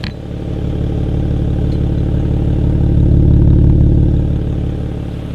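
A warm BMW E90 330i with N52B30 engine and performance rear silencer idles steadily with a low, rumbling exhaust burble, close and loud, holding an even rhythm throughout with no talking.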